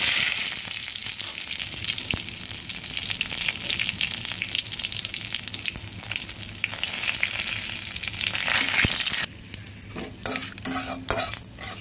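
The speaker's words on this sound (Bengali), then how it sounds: "এবার দিয়ে দেব শুকনো লঙ্কা, তেজপাতা আর পাঁচফোড়ন।" Dried red chillies, bay leaf and panch phoron sizzle steadily in hot oil in a kadai used earlier for frying a fish head, a loud continuous frying hiss with occasional stirring clatter, running alone without talk.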